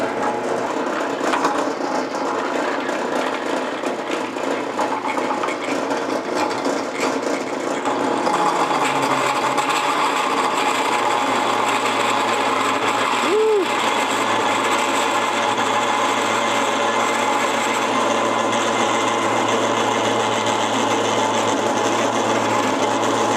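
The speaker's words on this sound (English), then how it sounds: "we're gonna cut our counter bore" A 5-axis CNC machine cuts a counterbore for screws into a fixture plate, giving a steady, loud, continuous machining whine with a constant mechanical hum underneath and no speech.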